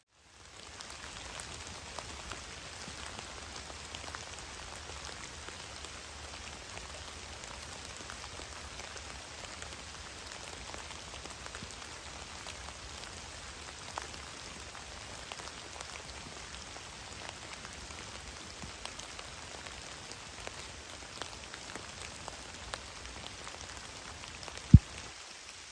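Steady rain patters in the woods during a winter hike, a soft continuous hiss of drops on leaves and ground with one sharp knock near the end and no talk.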